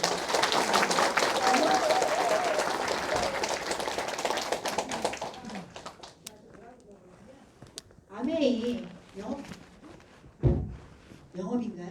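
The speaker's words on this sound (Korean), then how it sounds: "우리 그 리더분들한테 박수 한번 주세요." Applause from an audience at a business leaders' meeting in Daejeon, loud broadband clapping filling the first five seconds, then fading out as a voice speaks over the quieter remainder.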